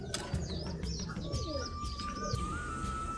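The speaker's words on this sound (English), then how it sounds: "showing us a blue helmet pigeon" A blue helmet pigeon, a tumbler breed, at a fancy pigeon farm: soft cooing with chirps and tweets from other birds, steady background bustle, close and continuous.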